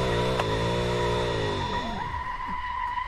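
Locked brakes on a custom V8 Mazda FC RX-7 at Suzuka in Assetto Corsa set the tyres skidding, a loud, sustained screech over engine drone that falls in pitch as the car slows.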